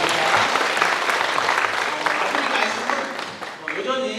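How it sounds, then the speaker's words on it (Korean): Audience applause fills a citizens' dialogue event in Hansol-dong, Sejong City: steady, dense clapping from a crowd continues for several seconds and thins slightly near the end, with a voice heard over it. "감사의 박수를 한번 보내드렸으면 좋겠습니다"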